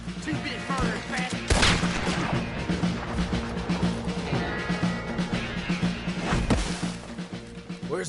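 Gunfire crackles throughout a Red Dead Redemption 2 battle, with a dense volley of shots and two heavy cannon blasts standing out among continuous shooting and shouting voices.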